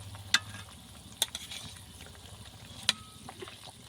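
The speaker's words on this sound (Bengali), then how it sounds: "মাছ দিয়ে এখন ভালো করে জাল করে নেব।" Hilsa fish and eggplant frying together in a pan give a steady, faint sizzle with a few sharp pops and a utensil clink near the start and near the end, and no voices.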